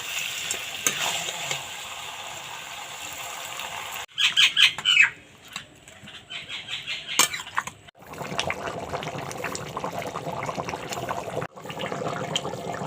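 Water poured into a pot of duck meat curry that is cooking down, a loud hissing, bubbling burst in the middle followed by steady sizzling and gurgling liquid close by.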